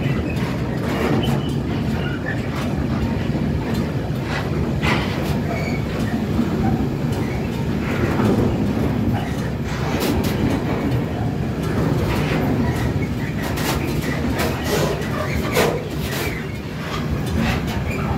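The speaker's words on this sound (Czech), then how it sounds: "Skutečně dlouhý vlak." A long coal train rumbles past nearby on the supply track of the Mělník power station, wheels clattering rhythmically over the rails in a continuous, steady roar with occasional squeals.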